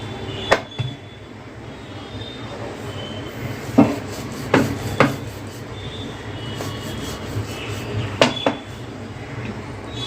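Onion paratha dough is rolled out in a home kitchen: a low, steady rolling rumble with occasional sharp clicks and clinks of the rolling pin against the board, close and fairly quiet.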